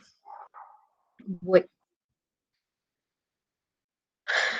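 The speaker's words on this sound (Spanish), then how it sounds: "perdón por los perros que están de fondo, que son del vecino" A neighbour's dogs bark faintly in the background, giving a couple of short distant yelps, then a brief louder vocal burst, with quiet gaps between.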